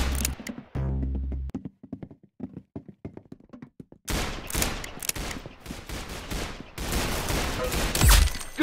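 Roblox Arsenal gunshots, sharp clipped shots with quiet gaps early on, then dense rapid bursts of fire crowding together in loud volleys through the second half.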